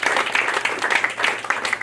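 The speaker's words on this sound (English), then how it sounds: "So a big round of applause." An audience at the Lambs club applauds before a staged reading begins. The clapping is lively and fairly close, pulsing in quick bursts for a couple of seconds with no voices over it.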